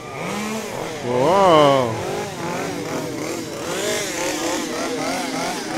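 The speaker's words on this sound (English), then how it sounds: "we got a chainsaw crew, or at least one person with a chainsaw" A scare actor revs a chainsaw near the wolf enclosures at Busch Gardens' Howl-O-Scream Halloween event. The engine whines up and down in wavering surges, with a loud peak early on and a person exclaiming nearby.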